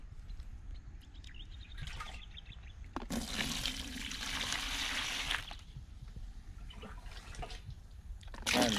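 Water pours and splashes into a pesticide mixture for corn worm control, a steady rushing burst in the middle with softer sloshing and stirring before and after, close by with no talking.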